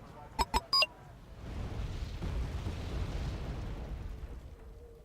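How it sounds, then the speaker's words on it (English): Artillery explosions in the strategy game Wargame Red Dragon, a rolling, rumbling blast that swells and lingers for several seconds after three short interface beeps, with no talking. "I hope artillery is like taking them out."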